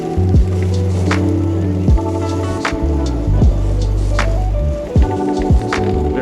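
A dual-motor Varla Eagle One electric off-road scooter crosses rough grass, its motor whining in steady tones that step and sweep as it speeds up, with occasional bumps and knocks from the uneven ground close by.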